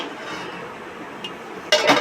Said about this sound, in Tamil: சர்க்கரை போட்டு மிக்ஸ் பண்ணணும்.